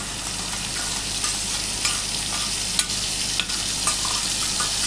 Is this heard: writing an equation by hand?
no